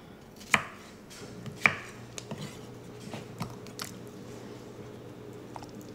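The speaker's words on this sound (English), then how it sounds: "I'm just going to chop them up" Thin-skinned Yukon Gold garden potatoes are chopped with a knife on a board, two crisp, close thuds followed by several softer, quicker cuts in a quiet room without speech.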